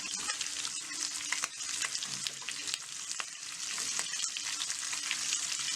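Steady crackling sizzle of onions frying in a pan, continuous and fairly close, with occasional stirring scrapes and no voices.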